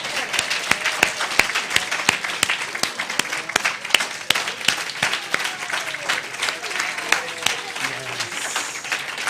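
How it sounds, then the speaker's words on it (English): A church congregation applauds at a Sunday celebration service, loud sharp individual claps standing out over a broad crowd ovation that runs steadily throughout, with faint voices mixed in. "another round of applause"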